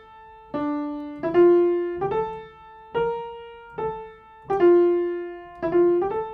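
The theme of Bach's sixth fugue from The Art of Fugue, in French style, played solo with swung sixteenth notes: clear ringing notes in an uneven long-short rhythm, each decaying before the next, with no other sound.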